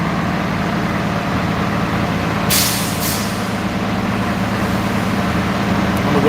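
A newer city bus idles at a bus terminal, its engine rumbling steadily while two sharp hissing bursts of air brake release sound close by in quick succession, with no speech.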